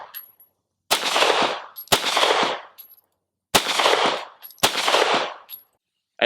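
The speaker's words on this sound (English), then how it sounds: "I'm going to do some single hand only into the head box with this P320 X Compact" Five loud, sharp gunshots from a SIG P320 X Compact pistol fired single-handed at a target, spaced about a second apart with a pause after the second shot, each followed by a short ringing decay.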